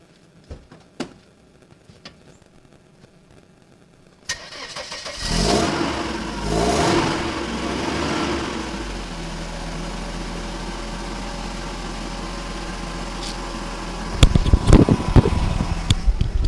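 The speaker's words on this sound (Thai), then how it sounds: "ตอนนี้เราสตาร์ทรถเบนติดแล้ว" A car engine cranks and catches after a few quiet knocks, then settles into a steady, moderately loud idle, with a couple of sharp clunks near the end; it is started on an RR battery wired straight to the positive terminal.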